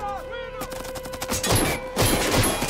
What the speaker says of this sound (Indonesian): Aksi saling lempar granat dan baku tembak tidak terelakkan lagi.